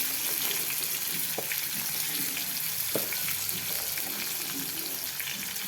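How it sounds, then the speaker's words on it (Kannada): Onions and green chillies fry in a pan for raw tomato chutney, giving a steady, dense crackling sizzle with a few faint clicks throughout and no voices. "ಈರುಳ್ಳಿ ಹಾಕೋತಾ ಇದ್ದೀನಿ"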